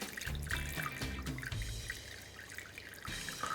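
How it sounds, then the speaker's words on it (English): Hot water poured from a blender jar into a cake baking dish to make a water bath, a steady liquid pour with trickling and dripping at moderate level, no talking. "I've got in my blender here, I've got some hot water that I'm pouring into the dish"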